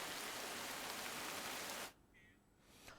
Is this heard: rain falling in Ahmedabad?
yes